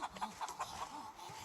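Short, soft clucks from a chicken roaming in the zombie survival game Project Zomboid, a quick run of three or four faint bwok-like calls followed by a trailing low warble, quiet and with no talk over it.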